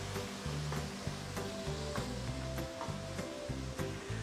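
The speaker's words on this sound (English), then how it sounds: "you want to be very careful when you are deep frying this." Prawns with their heads on deep fry in hot oil for an oyster-sauce dish, giving a dense, steady crackling sizzle with a few sharper pops and stirring scrapes, close and loud, with no talking.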